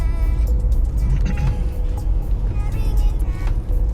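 A car drives steadily along a driving-exam route in Kielce, its low engine hum and road rumble continuous and close, with faint voices underneath.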